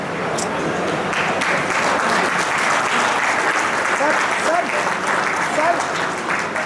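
Applause at an award ceremony for a branch office, a sustained spread of clapping heard under voices talking throughout.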